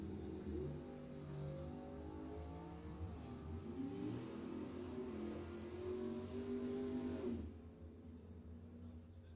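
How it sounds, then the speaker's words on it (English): A pickup truck and a Fox-body Ford drag racing at Tucson Dragway: loud, continuous engine roar with rising revs over several seconds, then an abrupt drop as the run ends, with no talk over it. "That's Kevin in the right lane with that pickup. Little fox-bodied Ford in the left lane"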